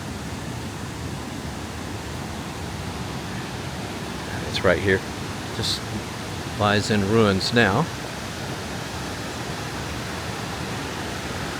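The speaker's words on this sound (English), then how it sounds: "But as you can hear, they had lots of water to supply it." Water rushes steadily near the ruins of an old company-built water plant in a small US town, a constant broadband roar with no breaks. Someone speaks briefly over it.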